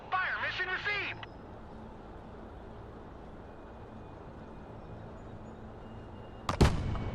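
In the Broken Arrow war game, an artillery fire mission opens with a brief radio-style voice, then a long quiet stretch, then a single sharp, loud blast near the end.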